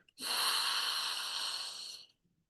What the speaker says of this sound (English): Always remember that breathing out takes more time than breathing in